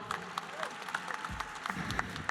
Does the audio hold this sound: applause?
yes